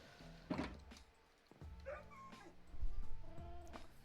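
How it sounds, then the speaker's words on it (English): A dog in the Minecraft video game gives short, fairly faint barks and whimpering yips, scattered irregularly among soft thuds from the game. "Dog is very loud."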